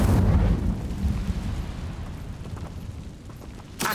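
An Incendio fire spell cast in Hogwarts Legacy bursts with a loud whooshing blast at the start, then fades into a lower rumbling crackle, and a second sharp burst comes at the very end.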